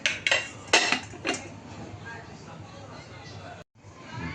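A steamed moong dal dhokla, made with the husk on, is turned out of its tin onto a plate. A few sharp metallic clatters come close together at the start, followed by quieter handling noises, with a voice talking.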